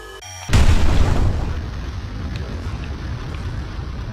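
A low rumbling boom of an incoming bomber aircraft bursts in loud and near in the video game Artificial Extinction, then settles into a sustained droning roar with wind-like noise.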